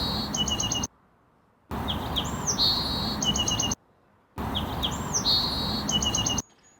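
Bird song recorded in the field and normalized on an MPC Live sampler, bright repeated chirping phrases over a steady hiss of background noise, played in three loud stretches separated by near-silent gaps.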